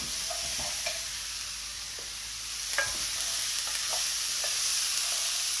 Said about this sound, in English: Let me give you a stir here, everyone.